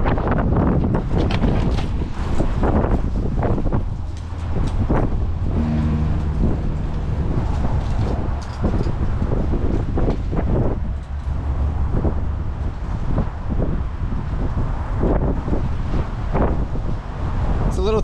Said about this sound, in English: Oh my God, it's so windy.